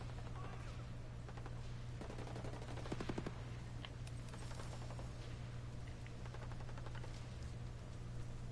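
Distant, faint bursts of automatic gunfire in Ghost Recon Breakpoint, scattered rapid volleys over a steady low hum of background noise.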